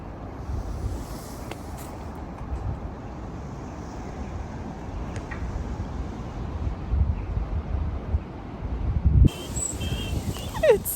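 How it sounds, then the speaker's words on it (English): Cold wind gusts through a garden, a steady broadband rush of air buffeting the microphone, swelling louder in the last few seconds with no voices. "The wind is literally like ice."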